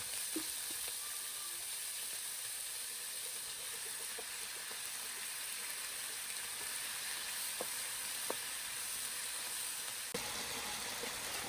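Quiet sizzling of small chopped potatoes frying in a pan, with a few faint clinks and scrapes of stirring against a steady low hiss.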